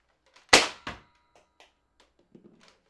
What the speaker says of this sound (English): 欢乐的 Nerf Gun。